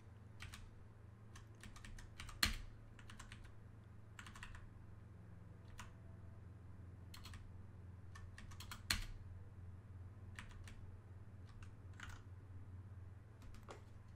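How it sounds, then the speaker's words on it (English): Quiet computer keyboard typing in irregular bursts of clicks, with a couple of louder keystrokes over a low steady hum, no talking. "Maybe my hardest part is going to be typing these users."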